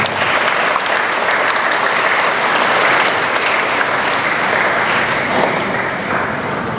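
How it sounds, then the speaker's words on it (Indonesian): Loud, sustained applause from a Catholic congregation at a Christ the King feast Mass with confirmations, packed, even clapping that holds steady for several seconds without a break. "Tepuk tangan untuk Bapak Karina."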